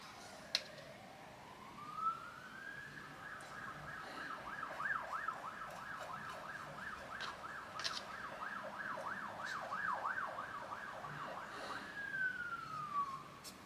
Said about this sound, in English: as soon as it rains, you can guarantee you're going to hear the siren go off